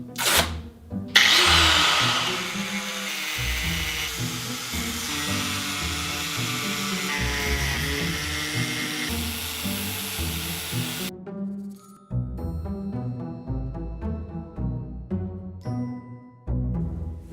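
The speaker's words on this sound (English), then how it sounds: "And our angle grinder." An angle grinder cuts into a motorcycle helmet shell, a loud high-pitched whining grind that runs steadily for about ten seconds, then stops abruptly, leaving a fading ringing tone with brief restarts.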